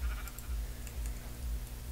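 Summoned sheep in Minecraft bleat several times in quick succession over a low, steady hum, the calls soft and close with no talking.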